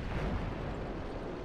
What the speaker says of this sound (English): Yay, artillery!